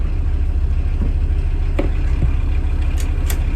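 A VW T4 van with a newly replaced engine mount pulls away in first gear, its engine a steady low rumble with a few light clicks and knocks over the drone.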